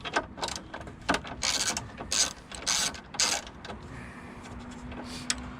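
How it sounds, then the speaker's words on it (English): A ratchet removes a 10 mm bolt on the coolant reservoir of a Nissan Altima 2.5L, with repeated rapid clicking bursts close by, then quieter handling sounds. "So all you have to do is take off this 10 millimeter bolt here."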